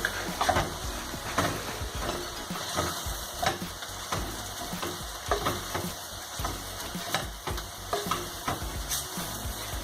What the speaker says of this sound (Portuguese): Precisa mexer bem até que ela incorpore bem, né? E absorva todas as gorduras do bacon.